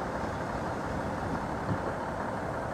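A Class 153 one-coach diesel train departs during an evening peak service, giving a steady, broad low engine rumble and hiss that stays level throughout, with no speech.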